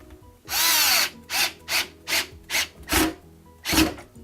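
A power drill tightens a dishwasher drain hose fitting in a run of bursts: one long whir, then about six shorter pulses, close and loud with no talking.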